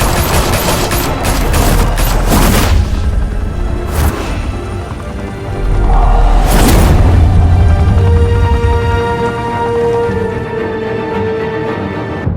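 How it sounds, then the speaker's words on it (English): Heavy gunfire erupts in a Batman: The Telltale Series game scene, loud dense bursts of shots with sharp cracks and booming impacts, easing into a lower rumbling tail with lingering echoes. "Open fire!"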